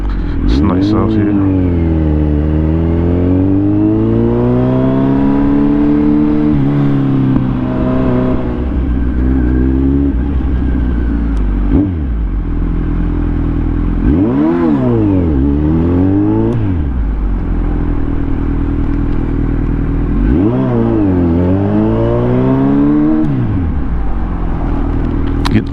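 A Kawasaki Z900 motorcycle rides through city streets, its engine note rising and falling in repeated rev sweeps as it accelerates and shifts, loud and close throughout, with a voice talking over it.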